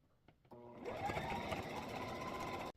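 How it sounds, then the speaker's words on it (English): A home sewing machine stitches fabric for an egg collecting apron, starting after a few soft clicks and then running as a steady, fast, close whirring hum for about two seconds before stopping. "put your needle down and sew"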